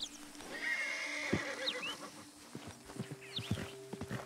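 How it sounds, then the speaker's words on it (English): Agitated horse in the Red Dead Redemption 2 video game neighing in two loud, shrill whinnies, followed by a run of close clip-clopping hoof steps near the end, with no talk over it. "Agitated horses need to be calmed before you can approach them."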